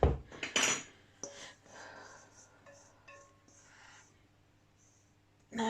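Cream cheese, 175 grams, scraped out of its tub into a mixing bowl for carrot cake batter, giving a few close clinks and soft scrapes of a utensil against the containers, with quiet pauses in between and a brief knock at the end.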